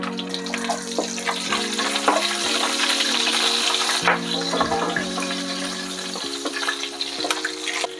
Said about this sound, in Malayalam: അതിലേക്ക് നമുക്കൊരു 1/4 ടീസ്പൂൺ ജീരകം, ചെറിയ ജീരകം കൂടെ ഇട്ട് കൊടുക്കാം.